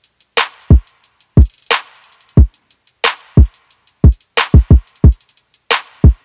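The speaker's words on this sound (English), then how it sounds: "So let's play this with everything that we have so far drum-wise." 808 drum kit pattern played back in Logic Pro: booming deep 808 kicks with long decaying tails, sharp snare claps and rapid ticking hi-hats, loud and punchy with a busy syncopated rhythm.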